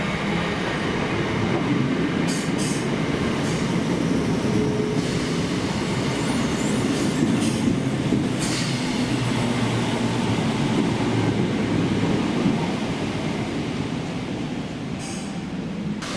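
Class 319 Northern electric train at Preston station, running between Liverpool Lime Street and Blackpool North: a continuous rolling rumble with wheel noise and a few sharp clicks and squeals, fairly close, steady throughout with no voices.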